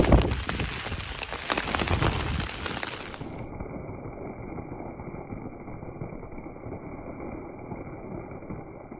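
Heavy rain hammering down loudly on the Port Davey Track in southwest Tasmania, then the sound abruptly becomes muffled, leaving a steady dull roar of rainfall.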